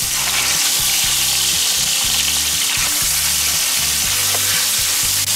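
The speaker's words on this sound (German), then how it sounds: "dann können wir mal unsere Ochsenbäckchen anbraten" Dry-aged ox cheeks searing in oil in a Dutch oven, a loud close sizzle and crackle throughout with stirring movements and no talk.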